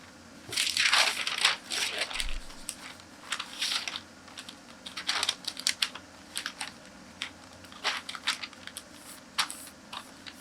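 A paper sewing pattern is folded along a dart leg, giving close, crisp crinkling and rustling in quick irregular bursts throughout, with no talking.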